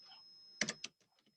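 Keys clatter on a computer keyboard as random numbers are entered into MATLAB, a quick burst of several near, crisp keystrokes followed by a few lighter, scattered taps.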